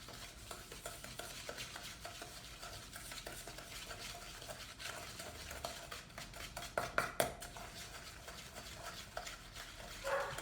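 A spoon stirs egg yolk into cookie dough in a bowl, with continuous close scraping and light clinks, then a few sharper knocks toward the end, and no talking.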